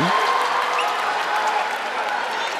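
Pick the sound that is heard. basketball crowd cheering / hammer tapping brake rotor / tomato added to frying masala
basketball crowd cheering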